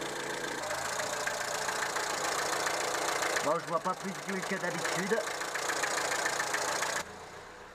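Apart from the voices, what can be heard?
Renault 11 GTL engine idling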